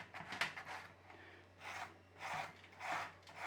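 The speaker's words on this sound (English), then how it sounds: "So we just need to trim off that pastry. Nice and gently trim it off." Pastry is trimmed from the edge of a tart tin for a treacle tart, giving soft, close scraping and rasping strokes in an uneven rhythm of several short passes, faint and without talking.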